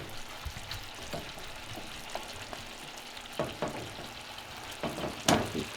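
Pork ribs sizzle steadily in a pan as they brown, with scattered scraping strokes from a wooden spatula and one sharper clatter near the end, close and moderately loud with no voices.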